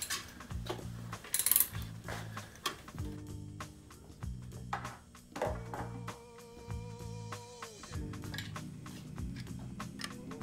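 Socket wrench ratcheting on the wheel nut of a Xiaomi M365 electric scooter during a flat-tyre wheel change, heard as repeated close bursts of rapid mechanical clicking with brief pauses between strokes.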